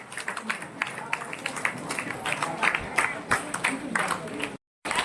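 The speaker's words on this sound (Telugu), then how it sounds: "రవి మరియు మధుబాబు గారికి గట్టిగా చప్పట్లు కొడతాం" Audience clapping for Ravi and Madhubabu at a gathering: a steady, close burst of many hands applauding for several seconds, cut off briefly near the end.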